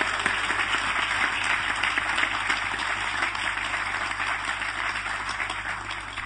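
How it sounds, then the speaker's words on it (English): Sustained, dense audience applause fills a lecture hall after a talk summarizing chapters of the Bhagavad Gita, holding steady and loud throughout with no voices over it. "Have a round of applause for him."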